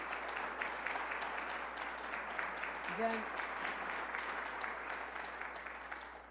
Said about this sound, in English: So let's give them a round of applause for what they do.